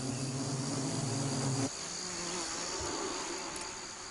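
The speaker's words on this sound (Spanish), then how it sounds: "Rápidamente surgen más abejas de las profundidades de la colonia requeridas para el ataque." Africanized killer bees buzz defensively at their colony, a dense, steady insect drone that fills the clip without pause, with a lower humming layer that drops away partway through.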